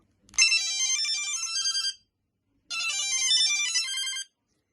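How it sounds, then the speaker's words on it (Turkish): A Sony Ericsson T-100 mobile phone ringtone plays two bright, chirpy electronic melodic phrases separated by a brief pause, clear and close with no talking. "Telefonumuzun sesi bu şekilde zil sesi."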